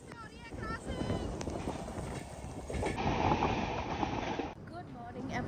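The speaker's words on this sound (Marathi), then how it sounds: "फाइनली हमारी ट्रेन पहुंची है मंगलुरु" A train pulls into Mangaluru, its steady rumble and rolling rail noise filling the scene with wind buffeting the microphone; the sound stays continuous and moderately loud without a clear pause.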